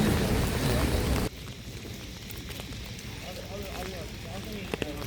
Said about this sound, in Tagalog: And yun nga, umuulan. Mas malamig talaga pag umuulan.